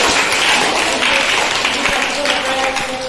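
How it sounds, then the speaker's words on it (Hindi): Students in an 8th-standard Hindi classroom break into loud, close applause, a dense burst of clapping that carries on for a few seconds with voices mixed in. "तालियां इसके लिए"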